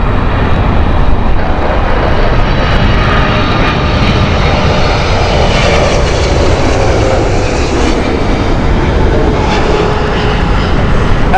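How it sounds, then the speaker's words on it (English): Saudi Boeing 777-300 on the Riyadh flight at Heathrow in strong winds, its jet engines giving a continuous loud roar that stays even throughout, with no talking. "Saudi in again. This is the Riyadh flight. The 777-300."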